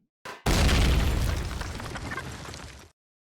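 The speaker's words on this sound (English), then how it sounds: "Too many explosions in this." Explosion in the space survival video game Empyrion Galactic Survival, a short pop followed by a loud, booming blast that rumbles and slowly fades over a couple of seconds before stopping abruptly.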